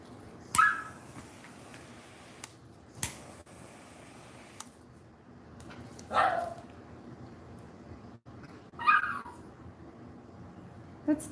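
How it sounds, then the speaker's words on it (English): Dog giving a few brief, scattered yips and whimpers in a quiet indoor room, with long pauses between each sound. "I'm teaching him not to bark"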